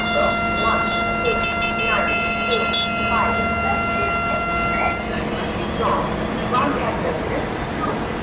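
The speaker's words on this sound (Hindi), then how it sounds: "उसमें आपको साउंड भी सुनने के लिए मिल जाती है कि दरवाजे आपके बंद हो रहे हैं।" Vande Bharat Express automatic doors closing in Train Simulator, heard as a steady electronic warning tone with layered harmonic pitches that stops partway, followed by train ambience, under someone speaking Hindi throughout.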